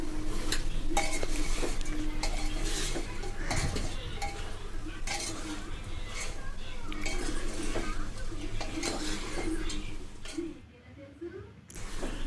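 Goat head curry with chili powder and salt being stirred in a pot, with scraping and metal clinks over a low sizzle, close up, while a person talks throughout.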